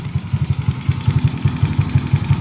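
Motorcycle fitted with a flat slide carburetor idling close by, a steady low throb with rapid regular ticking pulses, loud and alone with no talk.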